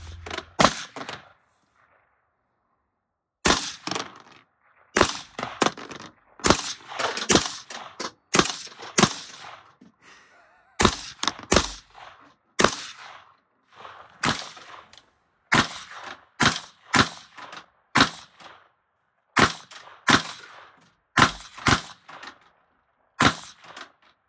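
Firearms from Winchester Armament fire at an outdoor range, loud sharp cracks in irregular bursts of single and double shots separated by brief silences, continuing throughout with no talking.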